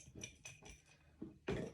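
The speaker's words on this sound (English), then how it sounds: "give that another little bit of a stir" A spoon stirs a mojito with sugar syrup in a glass, giving faint, close clinks and taps in an uneven run, ending with a slightly louder knock.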